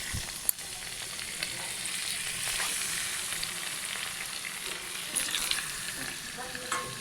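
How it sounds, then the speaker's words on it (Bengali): Fish fries in a pan with a soft, steady sizzle and occasional scrapes and clicks of stirring, fairly quiet and with no talking. "মাছগুলোকে ভেজে নিই"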